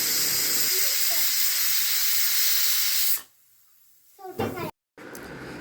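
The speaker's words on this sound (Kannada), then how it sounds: "ಒಂದು ಕುಕ್ಕರ್ ಲಿಡ್ನ ಕ್ಲೋಸ್ ಮಾಡಿ ಒಂದು 2 ವಿಸಿಲ್ ಬರೋ ತನಕ ನಾನು ಹಾಕಿ ಬಿಡ್ತೀನಿ" A pressure cooker whistle hisses loudly and steadily for about three seconds, then cuts off, followed by quiet and brief voices.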